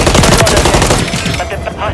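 Automatic gunfire in a Call of Duty Modern Warfare III beta online match, rapid loud bursts packed close together with dense clatter, fading slightly toward the end; a game voice callout sits under the shooting.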